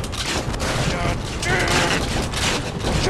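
Heavy volleys of gunfire in the video game Assassin's Creed Revelations roar continuously and loudly through the whole moment, with a voice speaking over the din.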